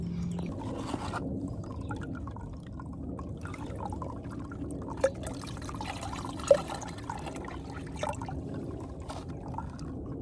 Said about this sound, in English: So now I can just put this in my Canuck bag and filter it through that.